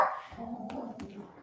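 A dog gives a couple of short, close barks mixed with a whining edge, over quiet background noise.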